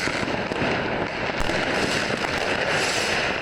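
Dense, continuous crackling and popping of firecrackers going off all around in a Berlin street, loud and unbroken, with no voices.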